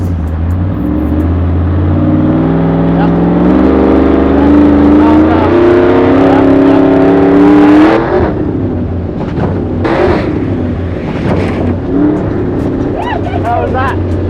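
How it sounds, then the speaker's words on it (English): A trophy truck accelerates hard up a ramp, its engine revving loud with a steadily rising pitch for several seconds before the note breaks off as it leaves the ramp, followed by rougher bursts of engine and impact noise. "accelerate up the ramp until it's in the air, and then just let it coast once we're off the ramp"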